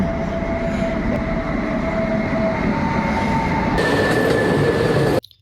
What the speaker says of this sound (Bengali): সো দেখতে পাচ্ছ ট্রেনের আওয়াজ দিচ্ছে